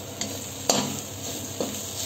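Ajwain and hing fry with onions for dal dhokli, giving a close, continuous sizzle broken by three sharp stirring clinks of a spoon against the pot.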